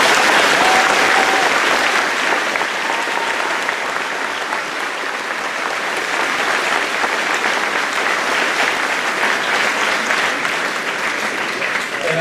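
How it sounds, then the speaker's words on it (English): Sustained, steady applause from an audience at a Veterans Day program honoring veterans, a dense wash of clapping lasting throughout without a break. "please give them one more round of applause"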